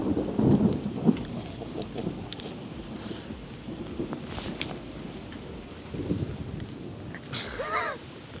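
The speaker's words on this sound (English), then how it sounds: "we're right over some nice thunder and lightning" A thunderstorm over fast-moving water, with deep rolling rumbles of thunder and steady rain, plus occasional crackles and a faint voice near the end.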